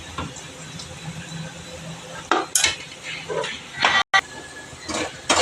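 Turmeric, chilli powder and salt stirred into a pan for a village-style dried fish curry: intermittent scraping and metallic clinks of a spoon against the pan over a faint sizzle, with a brief dropout partway through.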